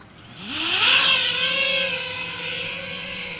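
An FPV drone taking off and flying slowly and smoothly, its motors rising into a high whine that then holds a steady, buzzing pitch, close and alone.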